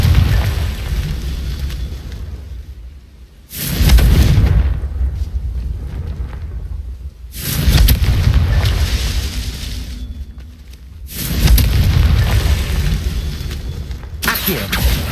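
Confringo blasting spells from the game Hogwarts Legacy go off as three loud, booming explosions with long rumbling tails, spaced a few seconds apart, followed by the start of a fourth.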